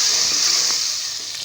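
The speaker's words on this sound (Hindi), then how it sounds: "और इसमें मैं अब टमाटर का पेस्ट डाल दिया है, इसको भी हम थोड़ा सा भूनेंगे" Tomato paste with ginger-garlic paste fries in a pan for egg korma, giving a steady, bright sizzle with a faint hiss, close and continuous.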